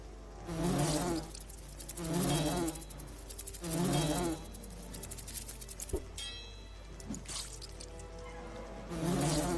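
A wasp enemy from the fantasy role-playing game Lords of Xulima gives a loud, close insect buzz that swells and fades in regular pulses, about four times, ending on a sharp click.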